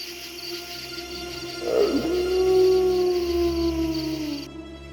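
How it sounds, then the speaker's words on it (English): A wolf howl in a Roblox werewolf story rises and holds as a long, clear sustained tone over a low background hum, fading slowly toward the end. "A howl?"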